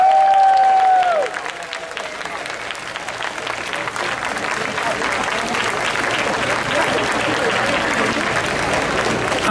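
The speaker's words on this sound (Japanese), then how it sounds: "今一度拍手をお願いいたします" Crowd applause at the close of the Kanda Myojin summer bon odori festival in Tokyo, a sustained dense clapping wash that starts under a fading electronic tone and continues steadily for several seconds, fairly loud and spread across a large outdoor audience.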